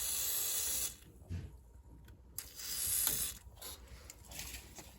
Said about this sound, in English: Let's spray some WD-40.